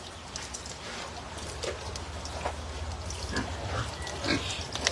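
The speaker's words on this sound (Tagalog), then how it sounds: "nagkapakain yung mama ko sa baboy" Pigs being fed on a farm grunt and snuffle at close range amid a steady noisy background, with scattered low grunts and rustling but no clear talking.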